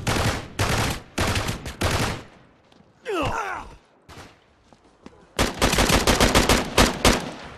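Video game gunfire from Uncharted 3 comes in rapid bursts of loud shots, with a brief pause in the middle filled by a groan-like effect, then a longer dense stretch of firing.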